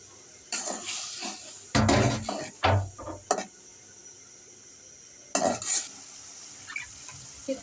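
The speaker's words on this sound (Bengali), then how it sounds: "জিরা গুঁড়ো দিয়ে দিব কুচো চিংড়ি" Small shrimp fry with cumin powder in a pan, with loud bursts of stirring, scraping and sizzling spread across the clip, then a quieter stretch before one more burst of clattering.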